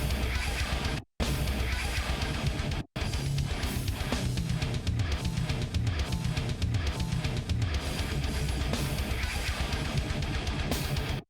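Dense, loud heavy metal with pounding drums and distorted guitars, its dynamics squashed flat and steady by compressor gain reduction, with two brief dropouts near the start.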